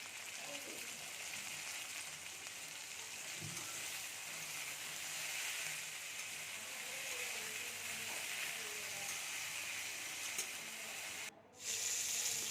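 Cauliflower, peas and potato frying in a pan, giving a steady, close sizzle and hiss that runs on evenly with a brief dropout near the end.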